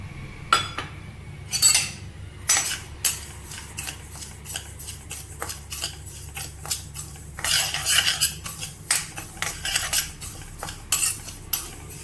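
A metal spoon scrapes and clinks rapidly against a hot kadai while stirring foxtail millet as it roasts, giving busy, repeated close-up scraping with sharp metallic chinks and no voices.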